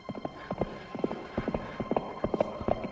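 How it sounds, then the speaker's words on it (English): A galloping horse's hooves thud in a quick, steady rhythm of clip-clop beats, close and fairly loud over a faint background hum. "It sounds like a horse at a full gallop."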